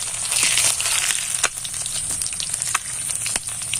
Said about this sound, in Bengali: আর এই যে রোলগুলো এবার আমি তেলের মধ্যে দিয়ে দেব